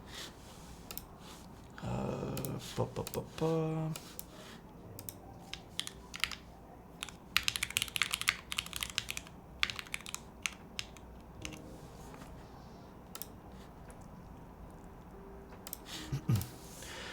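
Typing on a mechanical keyboard fitted with GMK Wasabi keycaps, close, quiet clacking keystrokes in irregular bursts with pauses, alone in a quiet room.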